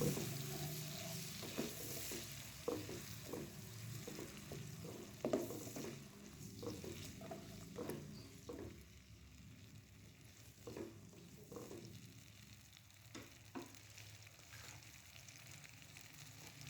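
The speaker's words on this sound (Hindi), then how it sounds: "मैं इसमें डालूँगी टमाटर।" Tomatoes and cabbage sizzle faintly in a pan for a spicy cabbage sabzi, with a steady low frying hiss broken by repeated scraping and stirring of a spoon across the pan.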